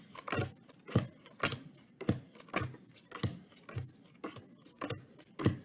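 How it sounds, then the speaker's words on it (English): Playing cards are dealt one by one off a pile during a card trick, giving a steady series of soft, close flicks and slaps on a table, without talk. "So we'll just deal out cards from this pile."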